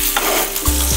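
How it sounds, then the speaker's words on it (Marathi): Green chillies and cumin seeds frying in oil for a fasting-style thecha, giving a steady close sizzle with a few stirring scrapes and clunks of a utensil in the pan. "मिरच्या छान अशा डाग येईपर्यंत आपल्याला परतून घ्यायच्या आहेत।"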